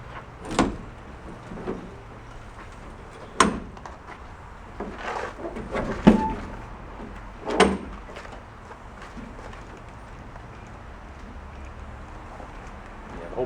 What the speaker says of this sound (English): Let's go see what we got on this door. I opened it last time.